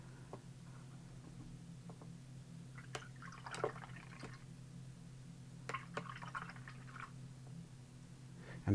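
Soft, scattered wet dabs and drips as a brush works in water, quiet and close, over a steady low electrical hum.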